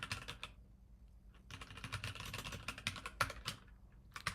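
Quick bursts of typing on a computer keyboard during Python coding, clusters of light clicking keystrokes separated by short pauses, fairly quiet and close with no speech.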